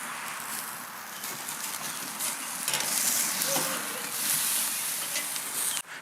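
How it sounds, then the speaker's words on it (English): Steak searing hard on a smoker cooker's grill, a loud, steady sizzle and hiss that swells slightly midway and continues unbroken, close up with no talk. "Check out the color on that steak searing away."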